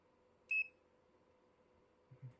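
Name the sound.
new multimeter beeping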